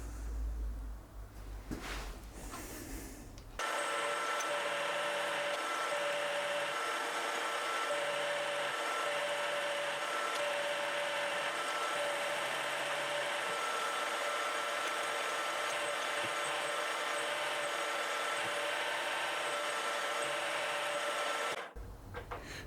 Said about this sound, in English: now we have all the space in the world to machine our radius